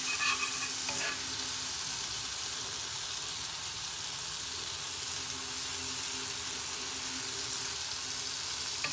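Pieces of watermelon sizzle steadily on a hot tawa while being stirred, with a continuous close frying hiss and a few clinks of the spatula early on.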